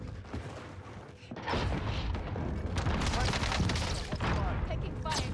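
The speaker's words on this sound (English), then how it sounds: "Taking fire here." Gunfire in a battle royale shooter match, dense bursts of shots and impacts building to a sustained heavy barrage after the first second, loud and close, with game voice callouts mixed in.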